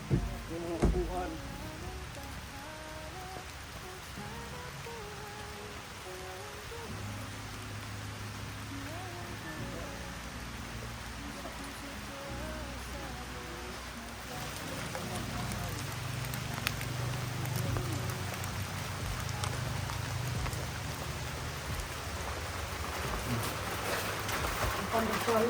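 Steady rain falls outside a house under construction, a broad continuous hiss that thickens and grows louder in the second half, with people talking underneath.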